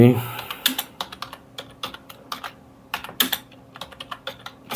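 Computer keyboard typing in irregular bursts of crisp keystrokes with short pauses, close and clear, with no voices.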